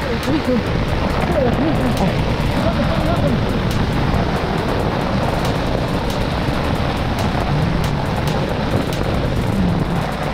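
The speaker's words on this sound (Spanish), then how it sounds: "Escuchen qué tal está, cómo nos avienta el aire." Strong wind and heavy rain batter a fishing boat at sea during a sea bass tournament, a constant loud roar of gusts and spray with water noise throughout, and voices talk over it.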